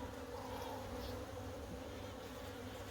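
Honey bees buzz around an open hive during a queen release in South Africa, a dense, steady drone from many insects close by, continuous and alone without talk.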